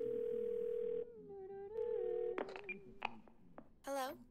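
Phone dialing a call in the video game 12 Minutes: a steady tone gives way to a quick run of dial-tone beeps and keypad clicks, then a rising electronic ring, close and clear with no voices.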